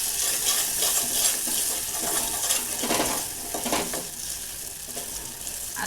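Masala frying in oil for an egg curry, a loud close sizzle with stirring and scraping of a spoon against the pan, continuous throughout.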